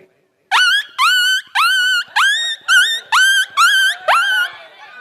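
A performer's voice imitates a puppy with eight sharp, high yelping yips in quick succession, each short and loud, rising then falling, with brief pauses between them.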